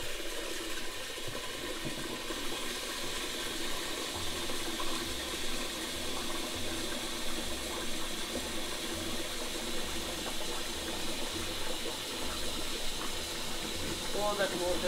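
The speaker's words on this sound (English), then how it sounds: "And then you just fill it with water." Tap water runs steadily into a cooking pot for dal curry, a continuous hiss of filling water at moderate distance with kitchen noise underneath.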